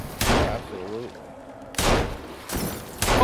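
Gunfire in a video game: three separate loud, sharp bursts of shots with echoing tails, spaced about a second apart, with a voice talking faintly between them.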